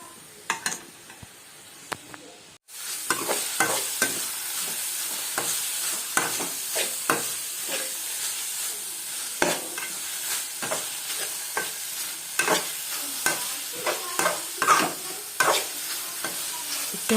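Grated carrots sizzle in hot ghee in a pan for carrot halwa, with a steady frying hiss and repeated scraping strokes of a spoon stirring through, close and clear, starting after a brief quieter moment.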